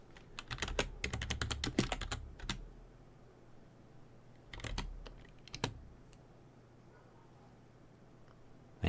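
Someone types on a computer keyboard in quick bursts of crisp, close key clicks, pauses, then taps out a few more keystrokes and falls quiet.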